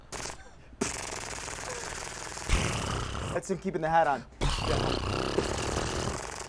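A voice imitates a jackhammer as a sound effect in a comedy game, a loud rapid rattling burst in the middle of the clip, with talk before and after.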